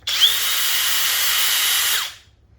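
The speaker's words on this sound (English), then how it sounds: "So here's the first drill mode for the Flex," A Flex cordless impact driver in drill mode whirs at a steady high pitch for about two seconds, close and loud, then winds down and stops.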